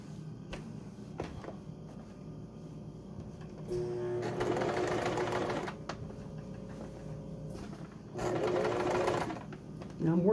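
A sewing machine stitches a baby quilt in two bursts of whirring, each a few seconds long, with quieter handling clicks between them. A person speaks close by around the stitching.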